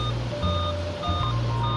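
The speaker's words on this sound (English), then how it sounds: "Can this thing stop beeping?" A Dell Inspiron N5 laptop beeps repeatedly while booting, short electronic tones repeating in quick succession over a low steady hum.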